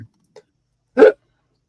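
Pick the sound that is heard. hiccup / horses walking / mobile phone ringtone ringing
hiccup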